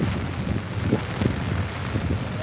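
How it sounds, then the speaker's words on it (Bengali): Heavy rain falls beside a river where boats and a steamer pass, heard from beneath an umbrella as a steady, dense hiss with occasional low gusty thumps and no voices. "এখন প্রচুর বৃষ্টি হইতেছে"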